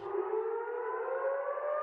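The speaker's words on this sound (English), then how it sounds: "in the West Bank, warning sirens echoing through Bethlehem" A civil defense warning siren wails over Bethlehem in the West Bank, a single steady rising tone held loud and unbroken with no voices over it.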